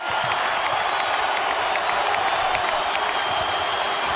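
A basketball arena crowd during an NBA playoff game between the Dallas Mavericks and Utah Jazz roars and cheers after a slam dunk, a dense, loud, sustained wall of crowd noise with no break.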